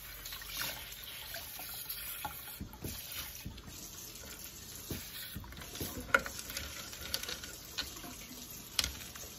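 Water from rock tumbler slurry drains through a screen in quiet, uneven trickles and splashes, with small drips and a few sharper clinks.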